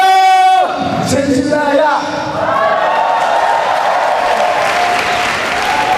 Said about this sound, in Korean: 귀여운 무대를 보여주신 먼남들에게 다시 한번 큰 박수 부탁드립니다